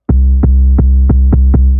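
A deep, loud 808 sub-bass note holds steadily on C, with six evenly spaced clicky pulses running through it.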